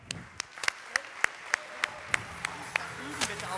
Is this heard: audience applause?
yes